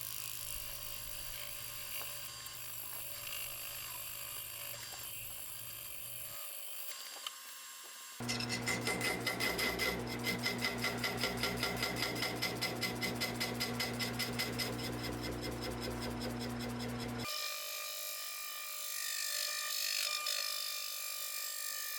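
A lathe turns a large maple bowl while a tool cuts the recess for a four-jaw chuck, a steady whirring hum with dense rapid scraping in the middle section, loud and close, with quieter motor drone before and after.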